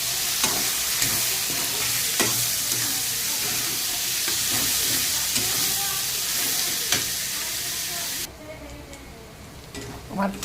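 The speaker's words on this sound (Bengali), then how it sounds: "আমার পেঁয়াজটা কিন্তু ভাজা হয়ে গেছে।" Chopped onion fries in oil with whole spices such as cloves, cardamom and cinnamon, giving a steady close sizzle with stirring scrapes, then dropping abruptly to a quieter crackle near the end.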